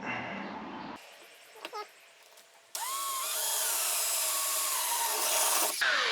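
A power drill with a 3/8 inch bit whirs steadily into wood, with a brief scraping interruption before the motor spins up again, loud and continuous to the end.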